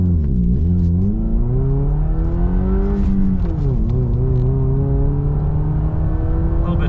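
A 2023 Subaru Crosstrek Premium with a six-speed manual accelerates hard from 0 to 60, the engine loud and close as it climbs in pitch, dips at each gear change, then rises again.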